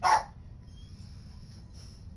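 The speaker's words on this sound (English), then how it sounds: "my dog won't stop barking." A single loud, close dog bark at the very start, then nothing but a low steady background hum.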